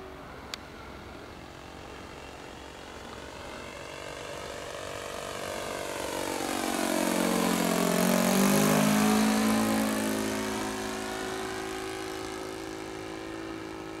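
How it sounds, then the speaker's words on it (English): A Magnum XL 15cc four-stroke engine pulls a Goldberg Ultimate 10-300 RC biplane through a long flyby, its buzzing drone swelling from distant to loud overhead around the midpoint, then dropping in pitch as it recedes; no talk. "I will just enjoy 5 minutes of flight and the sound of four stroke."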